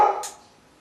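A dog named Max gives a single short, sharp bark indoors during a Macintosh Performa 200 repair, heard close and alone, then quickly dying away.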